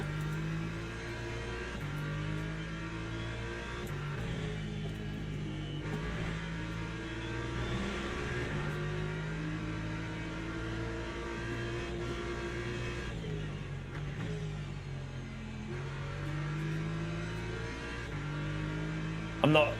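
A BMW race car engine in Le Mans Ultimate at Laguna Seca revs up and down through repeated gear changes, a continuous moderate whine with other cars nearby and someone talking over it.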